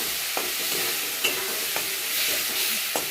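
Salt and tomatoes go into a frying pan and get stirred, a steady soft sizzle with a few light scraping clicks of the utensil, no talking.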